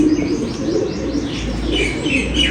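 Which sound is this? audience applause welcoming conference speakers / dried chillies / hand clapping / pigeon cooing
pigeon cooing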